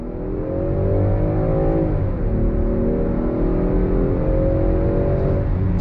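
A 2023 Land Rover Defender 130 engine pulls steadily under throttle, its hum climbing in pitch, dipping briefly at a smooth ZF 8-speed automatic upshift, then rising again, loud and continuous from inside the cabin.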